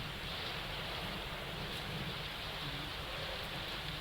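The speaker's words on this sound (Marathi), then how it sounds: "उत्तर प्रदेशात मुसळधार पाऊस कोसळतोय" Heavy monsoon rain pours down in Uttar Pradesh, a dense, steady hiss of falling water that stays loud and unbroken with no voices.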